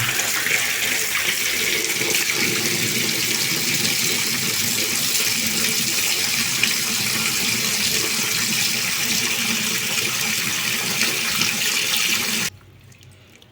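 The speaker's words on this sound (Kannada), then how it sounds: "ಆಲೂಗಡ್ಡೆ ತೊಗೊಂಡಿದ್ದೀನಿ ನೀವು ವಾಟ್ರಲ್ಲಿ ಹಾಕಿ ಸ್ವಲ್ಪ ವಾಶ್ ಮಾಡಿ ಆಮೇಲೆ ಕ್ಲೀನ್ ಮಾಡ್ತೀನಿ ಸ್ವಲ್ಪ ವಾಟರ್ ಬಿಡ್ತೀನಿ" Kitchen tap water gushing steadily to wash potatoes, a loud continuous rushing stream that cuts off abruptly near the end, leaving a quiet room.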